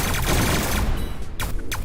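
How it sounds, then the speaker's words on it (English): Rapid bursts from a fast-firing flak cannon in the space-combat game Everspace 2, loud and dense, with a continuous barrage that thins briefly before resuming. "This is a fast-firing flak cannon."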